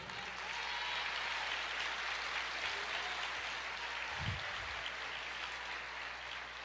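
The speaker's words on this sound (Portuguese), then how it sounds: "Pode aplaudir o Senhor." A church congregation applauds during a worship service: steady, dense clapping that blends into a continuous hiss, fairly soft and distant, with a brief low thump partway through.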